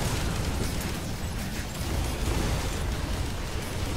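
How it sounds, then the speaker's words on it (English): Fireworks go off in the video game Risk of Rain 2 during a fight against beetle queens, a dense barrage of overlapping explosive bursts and pops that continues steadily and loudly throughout, with no talking. "Fireworks."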